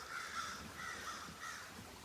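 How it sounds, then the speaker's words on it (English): Crows cawing in a forest, a steady run of repeated raspy calls at moderate distance, several caws in quick rhythm with no talk. "The crows are out here."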